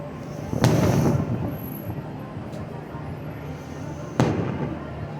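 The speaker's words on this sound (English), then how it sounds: "the fireworks are shooting" Two sharp fireworks bangs several seconds apart at a July 4th fireworks show in Pompano Beach, Florida, each with a rumbling tail, over a noisy outdoor background.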